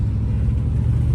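A Cadillac Seville Elegante being driven on a main road gives off a loud, steady low engine and road rumble from inside the car, brief and without speech.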